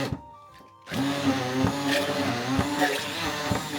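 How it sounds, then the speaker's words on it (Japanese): A small blender whirs up after a short quiet pause, running steadily with a buzzing motor whine and slight changes in pitch as it mixes a paste of sake lees, water, mirin and salt. "今度はブレンダーで混ぜていきます。"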